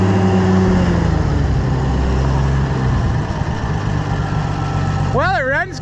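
Oliver 770 tractor engine running steadily after a carburetor install, a loud low idle that drops slightly partway through, with a voice cutting in briefly at the end.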